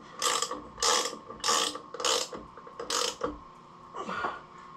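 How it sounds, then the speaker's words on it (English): A mechanic's ratchet being reversed and turned, five or six bursts of rapid clicking pawl strokes in a steady rhythm, close and fairly loud, no talk. "So we will reverse our ratchet."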